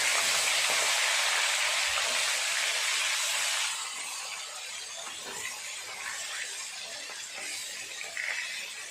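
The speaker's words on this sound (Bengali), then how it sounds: "উল্টে অপর দিকটা ভালো করে ভেজে নেব" Pieces of katla fish sizzle and hiss steadily in hot oil as they fry on the flipped side, a dense close crackle that eases slightly partway through with a few small clinks, no talking.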